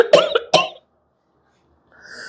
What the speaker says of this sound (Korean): 기침이 멈추질 않아.